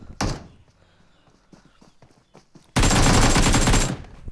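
Gunfire in the mobile battle-royale game PUBG Mobile: a single sharp shot, scattered faint clicks and footsteps, then a loud sustained burst of rapid automatic fire lasting about a second.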